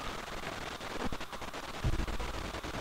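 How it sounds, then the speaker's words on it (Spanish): Octorok projectiles firing in The Legend of Zelda: The Wind Waker, heard as a series of punchy bursts over a dense, busy game soundscape, with a heavier thump near the end. "Y esquivamos uno de esos tiros del Octorok."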